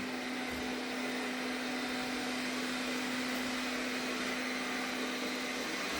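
An Arnagar S8 robot vacuum cleaner runs with a steady, loud whirring hiss and a constant motor hum, unbroken and close, with no speech.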